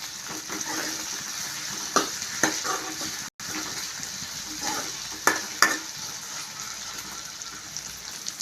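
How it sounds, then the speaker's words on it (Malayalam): Masala for a Kerala-style green peas curry sizzles in a pan as it is stirred, giving a steady frying hiss with occasional scraping stirs close by, no talking. "ഒരു പച്ചമണം മാറുന്ന വരേക്കും അതൊന്ന് ഇളക്കി കൊടുക്കാം."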